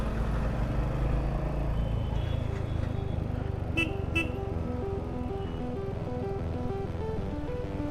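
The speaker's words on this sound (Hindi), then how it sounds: "यहाँ पे क्यू ट्रैफिक है" City road traffic at night: a continuous low rumble of passing engines with a few short car horn toots near the middle, heard from amid the flow at moderate volume, with no talk.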